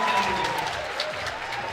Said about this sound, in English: Lots of cheers in the crowd.